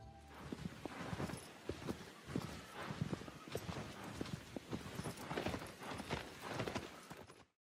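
Steady clip-clop of horse hooves at a walking pace while riding in the video game Shadow of the Colossus, rhythmic and close, with no music or voices alongside.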